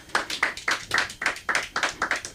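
Comedians in a comedy club audience clap in a steady, regular beat. The clapping sounds like only a few hands, close by, with no cheering or talk.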